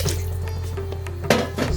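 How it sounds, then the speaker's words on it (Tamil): Water runs and splashes into a pot of garlic curry leaf kuzhambu, a steady pour with a low hum underneath and a brief sharper splash near the end. "இந்த ஸ்டேஜில் இன்னும் கொஞ்சம் ஒரு டம்ளர் தண்ணி"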